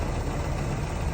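A Chevrolet Cobalt engine idles roughly, needing valve repair, producing a steady, close, low rumbling hum with no talk.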